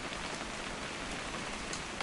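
Steady, dense rainfall in the video game What Remains of Edith Finch patters continuously on a surface, an even hiss with no voices or thunder.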